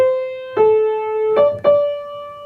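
Clear piano notes play alone in a brief rhythm: a held tone, then a quick pair of notes stepping slightly higher, ringing out cleanly.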